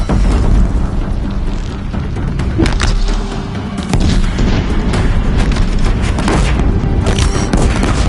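Deathbringer machines fire heavy barrages at a bridge in the PS5 game Horizon Zero Dawn, and explosions land on it one after another in a dense, loud series of booms and bursts over a constant rumble.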